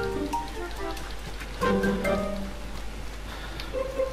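Rain falls in Red Dead Redemption 2 gameplay, a soft continuous patter beneath scattered game sounds, tonal cues and a brief swell of music.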